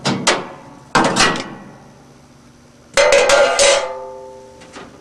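Heavy metal shell band being loosened and pulled from an 18-60LB commercial washer, giving three loud clanging metallic impacts with ringing decay, close and with no talk.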